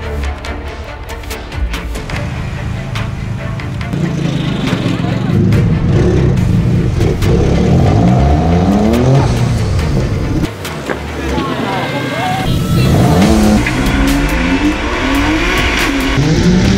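A Nissan GT-R race car at the 2017 Simola Hillclimb accelerates hard uphill, its engine loud and close, rising through gears with repeated revving sweeps and some tire noise, with commentary talk over it.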